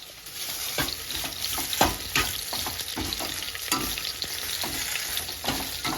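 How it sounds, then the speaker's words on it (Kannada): Garlic, ginger, coriander and mint frying in hot oil for soya chunk biryani, a steady close sizzle with scattered crackles and occasional scraping as the mix is stirred. "1 ಹಿಡಿಯಷ್ಟು ಕೊತ್ತಂಬರಿ, 1 ಹಿಡಿಯಷ್ಟು ಪುದೀನ ಸೊಪ್ಪನ್ನ ಕೂಡ ನಾನು ಫ್ರೈ ಮಾಡ್ಕೊಳ್ತಾ ಇದ್ದೀನಿ"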